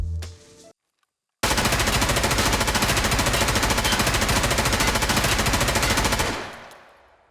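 Unsilenced M4A1 rifle in the video game Escape from Tarkov, a loud sustained burst of rapid automatic fire lasting about five seconds after a brief pause, dense and continuous, then tailing off into echo.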